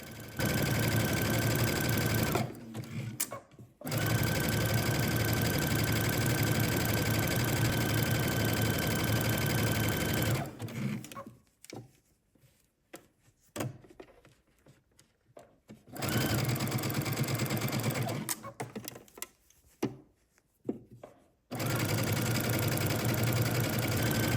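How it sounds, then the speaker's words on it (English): A sewing machine runs in long steady bursts of rapid stitching, stopping briefly between runs, close and loud with no voices. "we're going to go to the sewing machine and stitch from the bottom"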